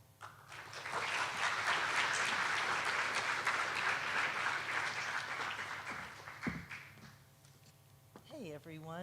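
A school assembly audience at a Holocaust Remembrance event bursts into loud, sustained applause welcoming a speaker, the clapping fading after several seconds before a voice begins speaking at the end.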